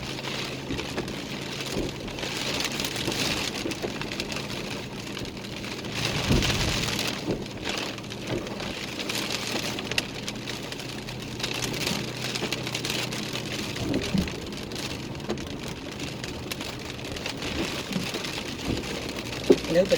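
Heavy rain falls steadily, a constant close hiss of water striking surfaces with occasional louder gusts and a faint low rumble beneath.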